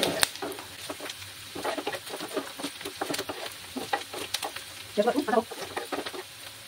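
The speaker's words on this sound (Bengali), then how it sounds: "6 কোয়ার মতো রসুন দিলাম, দিয়ে এগুলোকে ভালোভাবে ভেজে নেব।" Whole garlic cloves frying in a pan of oil, a soft steady sizzle broken by scattered stirring scrapes and a brief burst of clattering near the end.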